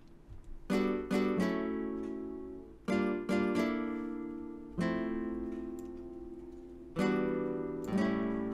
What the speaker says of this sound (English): The next thing that we add is a flamenco guitar.